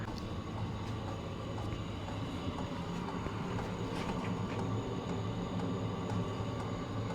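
A Vevor diesel heater with tool box and about a one-gallon tank runs continuously, giving a steady broadband rumbling drone with a faint repetitive ticking, constant in level and free of voices.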